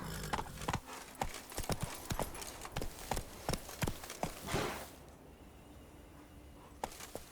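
Horse trotting in The Witcher 3 video game, a quick series of sharp hoof clip-clops up close for about five seconds before stopping, followed by a brief faint snort and quieter ambience.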